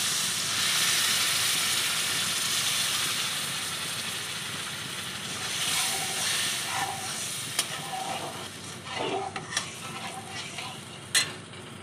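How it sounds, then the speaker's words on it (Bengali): Water poured into a pan of fried spice masala for potol dorma, giving a loud, hissing sizzle that slowly fades, followed by a few scattered clinks and stirring sounds. "মশলা কষা হয়ে গেছে, এবার আমি জল দিয়ে দিচ্ছি।"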